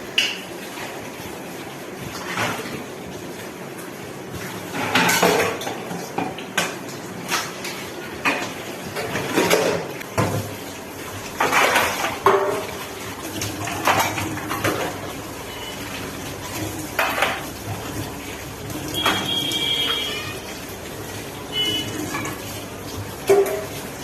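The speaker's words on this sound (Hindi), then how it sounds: "अब टोकरी में सारे बर्तनों को रख दूंगी खंगाल कर।" Washed kitchen utensils are rinsed and set into a basket at home, with running water and a string of clinks and clatters of metal dishes at close range, steady throughout.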